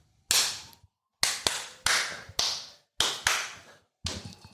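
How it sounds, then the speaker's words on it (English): Several sharp hand claps ring out in a quiet room before a podcast starts. Each is a crisp, close slap with a short decaying tail, about seven in all, spaced irregularly roughly half a second apart, with no talking. "I'm going to do a clap and then we're going to kick it off."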